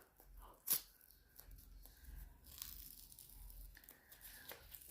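Notebook packaging is torn open by its tab, a quiet close sequence of crinkling plastic with one sharp rip followed by softer tearing and rustling.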